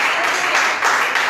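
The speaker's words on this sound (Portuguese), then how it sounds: "Pode aplaudir" A church congregation applauds during a Thursday worship service, a dense, steady wash of clapping filling the short span at close, loud level with no gaps.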